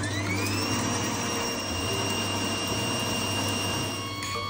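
An electric mixer beats three egg whites with a pinch of salt for a lemon ricotta cake, giving a steady, loud whirring drone that holds evenly throughout with no talking.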